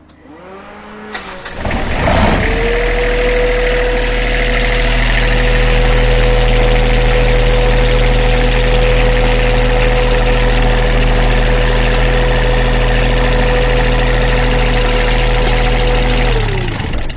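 A Harrington WAC series generator engine cranks briefly, catches and settles into a loud, steady idle with a constant hum that continues to the end, with no talk.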